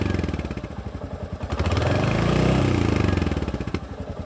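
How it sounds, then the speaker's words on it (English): A Royal Enfield Hunter 350 motorcycle engine idles with a rapid thumping beat, then revs up into a louder sustained roar and drops back to a steady pulsing idle, close by. "I can rev it up"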